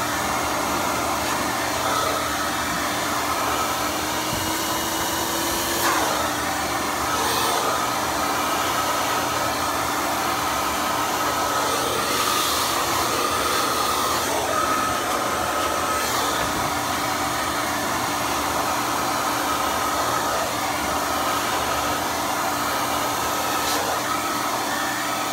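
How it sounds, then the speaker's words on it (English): Hair dryer blowing steadily and loudly throughout, used for beard grooming on a medium-to-long beard, a continuous broadband airflow roar with slight shifts in tone as it moves. "So I'll show you with the blow dryer here."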